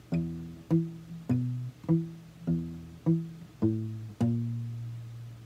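Travis-picked fingerstyle guitar playing a song, with an even, alternating bass thumb pattern and light melody notes above, clear and close with no voices, the last note left to ring.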